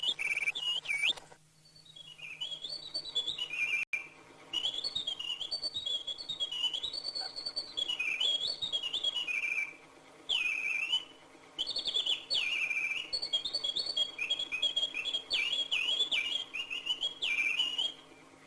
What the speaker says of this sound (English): inscribing on their mechanical memories the bird song typical of the Jura forests